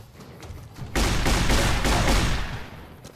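Riot shotgun blasts from Fallout: New Vegas ring out as a loud, dense burst of rapid booming shots, starting abruptly about a second in and continuing without pause, with no voices present.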